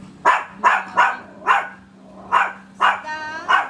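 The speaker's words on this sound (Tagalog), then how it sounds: "Sit down, dog." A dog on a terrace barks sharply about seven times in an uneven rhythm, loud and close, with a soft whimper-like tone near the end.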